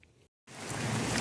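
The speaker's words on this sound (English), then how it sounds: "Florida is doing its thing. It's raining cats and dogs." Heavy rain pours down in Florida, a dense, steady hiss that follows a short gap of silence and then holds loud and unbroken to the end.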